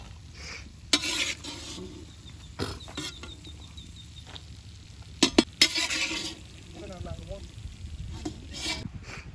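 Cashew nuts fry in a pan for a village-style carrot halwa, giving a soft sizzle under spoon stirring and clinks against the pan, while a person talks over it.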